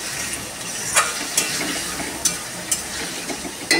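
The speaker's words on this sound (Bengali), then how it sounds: "আলুটা একটু সুন্দর করে তেলে নাড়াচাড়া করে নেব" Potatoes sizzle in hot oil in a pan as they are stirred, with a steady frying hiss and sharp scraping strokes of the spatula at irregular intervals.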